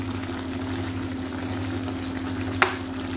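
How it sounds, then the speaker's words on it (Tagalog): Broth for pork pata boils steadily in a pot, a constant bubbling and simmering hiss with a low hum beneath it, close and even, with one short clink near the end and no voices. "Yan, kumukulo."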